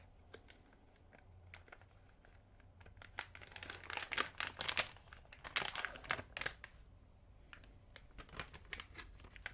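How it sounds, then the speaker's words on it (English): Plastic cover peeled back by hand, giving a run of crinkly crackles and tearing rustles that swell to a louder burst in the middle, then trail off into scattered small crackles, close up with no talk. "Try and peel back the cover here."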